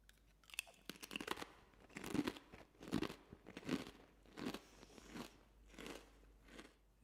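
Close crunching as crisp food is bitten and chewed, with a steady rhythm of loud, crackly bites and no talking.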